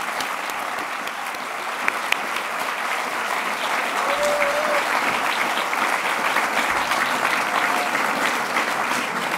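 Audience at a literary awards night applauds the winners and shortlisted writers, a steady wash of many hands clapping from a large room, holding evenly for the full span.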